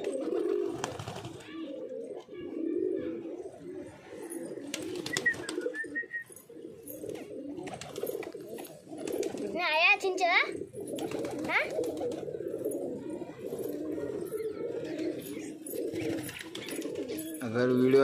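Several pigeons coo steadily close by in a loft setup, with soft chirps and flutters mixed in and people talking intermittently over the birds.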